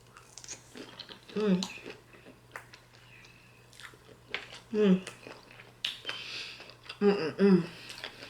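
Close, wet chewing and biting of shrimp during a seafood mukbang, in three distinct bursts separated by quiet pauses, with a faint low hum underneath and occasional soft vocal sounds.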